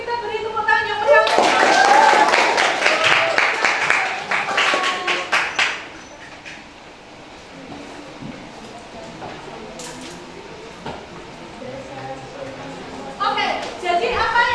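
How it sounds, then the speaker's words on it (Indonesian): A classroom of students gives a burst of hearty applause, loud and dense for several seconds before fading into murmuring voices and scattered taps, with a brief second flurry of claps near the end. "Kalau sudah jelas, tapi kita beri tepuk tangan yang meriah."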